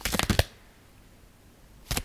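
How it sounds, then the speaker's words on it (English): A deck of playing cards being shuffled in a quiet room, two quick riffling bursts at the start and another brief burst near the end, separated by near silence. "I'm going to shuffle another deck and pick a card"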